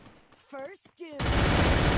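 Video game gunfire while going for a headshot: a brief spoken voice, then a loud, dense, unbroken burst of rapid shots filling the rest of the moment.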